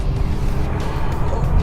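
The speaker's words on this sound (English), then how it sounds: "traction control cutting in." A 2012 Nissan GT-R on a slippery track with traction control cutting in, its engine a loud, close, rough drone that stutters unevenly as power is trimmed.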